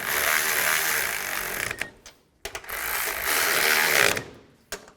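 A ratchet snugs the upper strut mount nuts on a 2011-2014 Chrysler 200 front strut assembly with the suspension lowered: two long bursts of rapid, close clicking separated by a short pause, then a few isolated clicks, with no talking.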